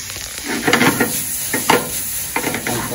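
Garlic shrimp sizzle in a pan after a splash of lemon juice, with a bright constant sizzle broken by bursts of stirring and scraping at close range, no talk.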